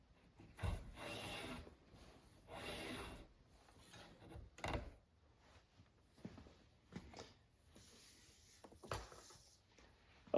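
Leather belt edges being burnished, a rubbing, rasping wooden friction in several short bursts separated by pauses, fairly quiet and close.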